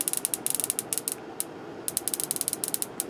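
Sharp, fast crackling bursts from a homemade Tesla coil sparking, arriving in irregular clusters with a brief pause in the middle, close and fairly loud, with no talking.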